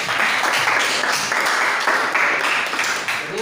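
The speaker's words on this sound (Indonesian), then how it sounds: "Oke, tepuk tangan untuk Aisyah." A classroom applauds a student during a sociology lesson, with dense, steady clapping from many hands filling the whole stretch and no talk over it.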